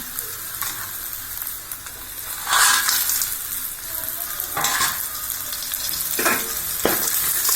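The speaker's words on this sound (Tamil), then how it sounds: "எல்லா வத்தலையும் போட்டு வதக்கிடலாம்." Onions and sun-dried vathal frying in a pan for vatha kuzhambu, a steady close sizzle with a few louder bursts as ingredients are stirred and added, no voices.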